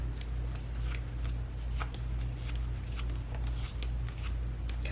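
Scissors snipping paper pieces for a planner page, a steady run of short crisp cuts over a low background hum, fairly close with no talking.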